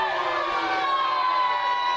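A live wrestling crowd roars in disapproval after a body slam on the floor, a dense sustained swell of shouting and jeering voices that fills the whole moment.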